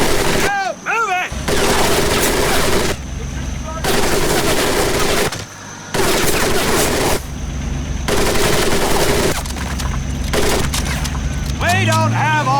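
Sustained machine-gun fire rattles across a military training course in the video game Medal of Honor Pacific Assault, loud and continuous with brief breaks, while a voice shouts orders over it.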